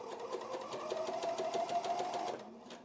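A serger stitches a test seam on jersey knit fabric, its needles and knives running in a fast, steady whir for over two seconds before stopping. Close, alone, no talk.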